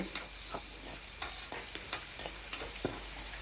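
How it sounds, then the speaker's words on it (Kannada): Steady sizzle of garlic frying in a pan, broken by repeated sharp scrapes and clicks of stirring at an irregular rhythm. "ಉಳಿದಂತಹ ಬೆಳ್ಳುಳ್ಳಿಯನ್ನು ಹಾಕಿ ಅದನ್ನು ನಾವು ಚೆನ್ನಾಗಿ ಹುರಿಬೇಕಾಗ್ತದೆ"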